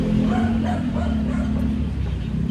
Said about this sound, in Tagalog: yung asong nagpupumilik.